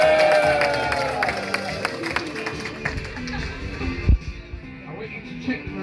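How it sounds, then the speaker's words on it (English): A crowd at a recreational magic show gives a round of applause and cheers, a busy murmur of clapping and voices that thins out and fades, leaving scattered sounds. "Let's give it a big round of applause."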